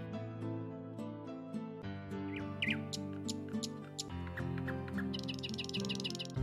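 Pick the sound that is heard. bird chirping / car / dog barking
bird chirping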